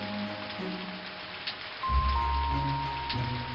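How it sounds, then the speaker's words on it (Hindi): Steady rain pours down in a cartoon forest, a dense even hiss that swells heavier about halfway through, joined by a low rumble and faint tones beneath. "उतने में बहुत जोर से बारिश शुरू होती है।"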